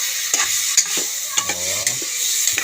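Sautéed onions being stirred in a cooking pot, with close scraping strokes of a utensil over a steady sizzle and a few sharp clacks against the pot.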